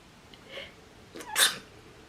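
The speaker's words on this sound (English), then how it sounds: "Gonna sneeze." A single person's sneeze, a short sharp burst preceded by a faint indrawn breath, close and fairly quiet in an otherwise hushed room.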